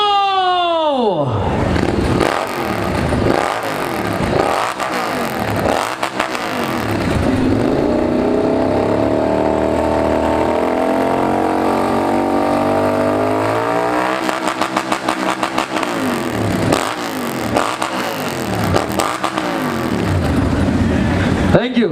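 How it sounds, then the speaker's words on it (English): Superbike engines at a superbike festival in Pune start up and rev repeatedly, rising and falling throttle blips then a sustained high roar, loud and close with crowd noise throughout. "Please start your engine."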